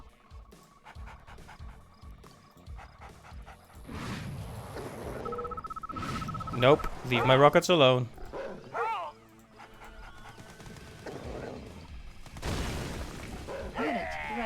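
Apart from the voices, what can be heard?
attack dog unit from video game Red Alert 2: Yuri's Revenge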